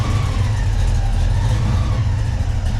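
A Ford Foxbody V8 idling with a newly installed ATM carburetor, a steady, loud, low rumble that holds even throughout with no one speaking.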